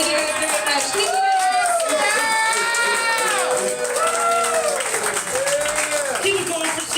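Comedy club audience applauding continuously after a stand-up set, a dense steady wash of clapping mixed with cheers, while a loud amplified host voice talks over it throughout.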